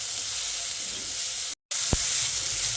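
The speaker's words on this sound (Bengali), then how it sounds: "প্রায় 2-3 মিনিট সময় ধরে পেঁয়াজটাকে আমি ভেজে নিয়েছি" Sliced onion and slit green chillies fry in oil for a rui fish curry, giving a steady, even hiss that cuts out briefly midway before resuming, with one short knock from a utensil.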